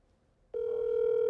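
An outgoing telephone call's ringback tone starts abruptly after about half a second of near silence, then holds as a steady, loud, continuous electronic tone with no voices.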